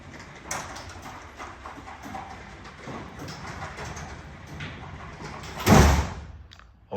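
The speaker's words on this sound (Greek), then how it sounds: "Θα τη δώσουμε να κατέβει. Η πόρτα μας κατεβαίνει." A Hörmann industrial door lowers with a steady rumbling, rattling run of several seconds that ends in a louder thud as it closes, heard alone without talk.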